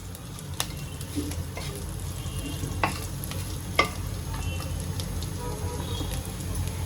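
Fried okra with kokum sizzling in a pan, a moderate steady crackle with occasional sharp taps and scrapes of a spoon stirring, plus a low background hum, no talking.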